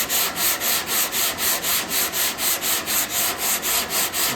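Rhythmic back-and-forth scraping of a sanding block with 80 grit paper over Bondo body filler on a Chevy C10 truck tailgate, about three even strokes per second, close and continuous.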